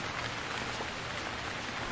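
Steady rain in the survival game Stranded Deep falls as a dense, even hiss of drops across the whole stretch, with no pauses and no voices over it.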